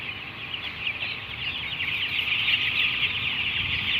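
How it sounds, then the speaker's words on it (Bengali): Chickens being chased at feeding time, a dense, continuous chorus of many birds clucking and chattering at moderate distance, steady throughout with no speech. "দেখছেন দাদা মুরগি কীভাবে তাড়া দিচ্ছে।"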